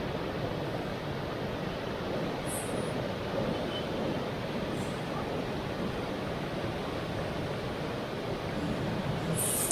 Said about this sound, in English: You see a lot of water flowing down.